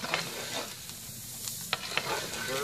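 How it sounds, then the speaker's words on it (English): Grain is parched in a historic treaty kettle, with a steady dry sizzle and scraping as it is stirred, and a few sharp clinks against the metal, close and moderately quiet. "Keep on parching, Dave."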